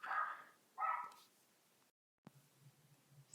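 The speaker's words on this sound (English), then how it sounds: "So I hope you guys don't mind my dog. She was barking a lot right now." A dog barks in the background, two short bursts close together near the start, then quieter room noise.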